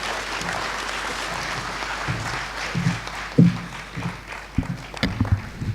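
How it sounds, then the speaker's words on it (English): Sustained applause from a crowd at a bankers' annual conference, steady clapping that swells with a few louder claps toward the end. "Another round of applause for Alhaji Suleiman Rao, OON, FCIB."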